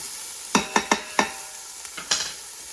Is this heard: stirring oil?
yes